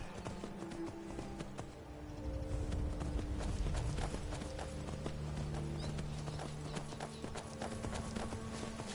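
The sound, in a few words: horse hooves clip-clopping in a PS4 video game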